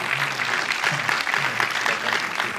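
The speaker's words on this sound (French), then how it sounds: "On les applaudit très fort, bravo" An audience applauds warmly at an adventure event in the Jura, dense sustained clapping with some voices mixed in.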